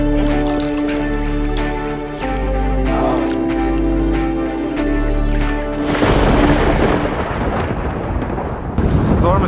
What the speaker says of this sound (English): Storm is coming.